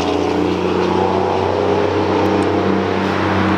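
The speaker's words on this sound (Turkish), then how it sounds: "Çok yüksek sesli bir araba geçti." A very loud car passes close by, its engine a steady heavy droning hum that holds throughout with no talking.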